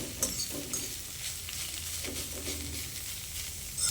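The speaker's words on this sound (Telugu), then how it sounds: "ఇలా వేపుకోవాలండి బాగా పచ్చివాసన పోయే వరకు నెయ్యిలోనే" Pumpkin halwa fries in ghee in a pan, giving a steady close sizzle with soft scraping stirs throughout, no voices.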